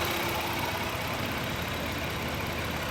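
A 2000 Toyota 3.0 VVT engine with a misfire idling rough and rich, a steady broadband mechanical drone with a low, uneven pulsing throughout, close and continuous with no talking.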